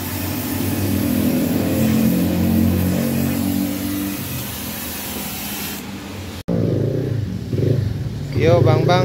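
Yamaha Vega R motorcycle fitted with a PGA exhaust, a steady, rough engine roar running for several seconds. It then cuts out and gives way to nearby talking.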